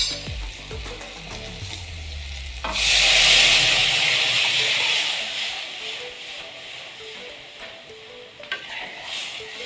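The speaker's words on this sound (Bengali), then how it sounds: "এরপর আমি সেদ্ধ করা ডালটা এর মধ্যে দিয়ে দেব" Boiled masoor lentils tipped into a hot pan of sour dal with hog plum, bursting into a loud, steady sizzle and hiss that follows a few stirring scrapes and then slowly settles.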